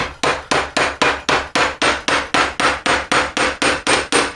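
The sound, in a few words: hammering jewellery ring shank on metal block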